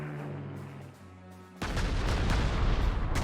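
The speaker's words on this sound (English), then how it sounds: "we might as well just use our Heinkel to bomb that or something" A Heinkel bomber drops bombs on a target in the WW2 strategy game Panzer Corps 2: a low droning tone gives way to a sudden loud rumbling barrage of blasts that roars on to the end.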